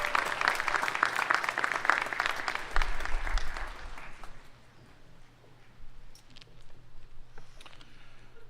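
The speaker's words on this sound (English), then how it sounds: "please join me in a round of applause in recognition of these dedicated professionals" An audience applauds at the Army and Navy Academy 2024 commencement ceremony: dense, loud clapping for several seconds that thins to scattered claps and fades away.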